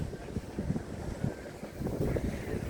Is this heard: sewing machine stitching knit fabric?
no